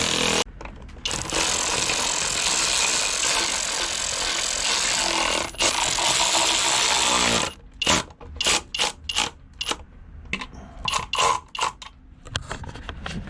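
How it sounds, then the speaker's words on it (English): Small bolts are tightened on a Luhrs 28 boat engine while priming the oil pump, with a loud continuous buzzing power-tool whir for about seven seconds, then a series of short, choppy bursts. "so now we're going to tighten up the little bolts on the"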